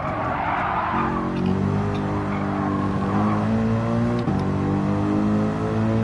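Mitsubishi Lancer Evo in Gran Turismo 7 at a seaside track, a steady engine drone with shifting pitch and tire squeal through a corner, loud and continuous with no talking.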